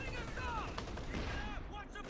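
Video game battle gunfire including LMG fire, a dense continuous clatter of shots under a muffled voice, loud and close.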